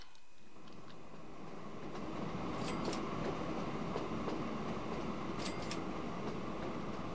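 Train rumbling steadily along the track in the railway simulation game Train Fever, a continuous low rolling drone that swells after two seconds, with faint clicks and two brief higher squeal bursts, no voices.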